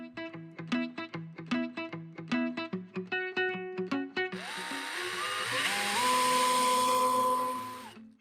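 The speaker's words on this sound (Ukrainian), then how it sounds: "Для цього тесту я взяв дрібний шуруп та зараз спробую його закрутити на першому моменті." A DeWALT DCD703 cordless screwdriver drives a small screw, first in a run of short whirring pulses, then in one long, loud, continuous whine that holds steady and stops abruptly.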